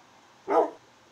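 A dog in the Minecraft video game lets out a single short, fairly loud bark against quiet surroundings.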